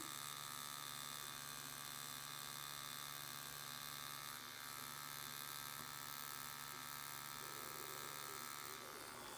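A tattoo machine buzzing steadily while tattooing, a constant electric whine with hum, close and even for the whole stretch, with no clear talking.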